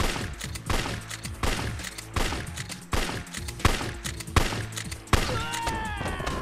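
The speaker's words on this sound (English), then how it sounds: "I'm gonna shoot this guy out with this" Repeated gunshots from a handgun in the video game Yakuza 3 Remastered, firing in an irregular rhythm over a busy, loud game soundtrack, with sharp impacts standing out near the end.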